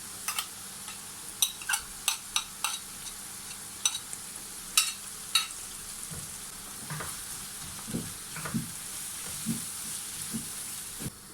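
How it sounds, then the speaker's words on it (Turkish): Spices and tomato paste stirred in a hot frying pan for an içli köfte filling, with a run of sharp spoon clicks and scrapes early on, then softer scraping and sizzling stirs over a steady low frying hiss. "Baharatlarımızı karıştırıp salçamızı da ekleyelim"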